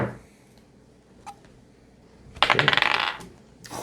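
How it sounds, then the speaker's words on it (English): Stone dice clatter across a tabletop during a tabletop roleplaying session, with a faint click early on, then a loud burst of rattling tumbles and another clack at the end. "I'm going to use these stony dice."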